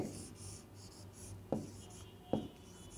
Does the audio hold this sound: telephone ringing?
no